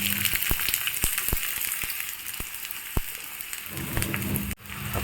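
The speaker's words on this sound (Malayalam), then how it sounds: "പാനിലേക്ക് കുറച്ച് ഞാൻ വെളിച്ചെണ്ണ ഒഴിക്കുന്നുണ്ട്, ഉള്ളി വറുത്തെടുക്കാൻ വേണ്ടിയിട്ടാണ്" Chopped onions sizzle and crackle in coconut oil in a pan for a Kerala chicken chukka, a dense steady frying hiss with sharp pops scattered throughout, close and fairly loud, with no voice over it.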